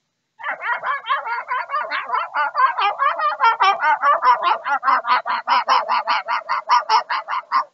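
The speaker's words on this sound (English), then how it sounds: "the little dog chimed in from up above on the deck" A small dog barks from a deck above a yard, letting out a rapid, unbroken run of sharp, high yaps at about three per second, steady and fairly close throughout, with no talking.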